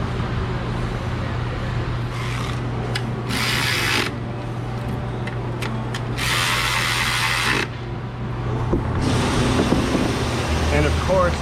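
A ratchet tightens 8mm bolts on the coil bracket of an engine intake, with bursts of quick clicking in several short runs over a steady mechanical hum, close to the listener.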